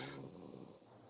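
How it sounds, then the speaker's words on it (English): A person snores with one short rasping, wheezy inhale, heard alone and fairly close over a low background. "Who's snoring?"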